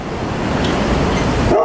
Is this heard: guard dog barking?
yes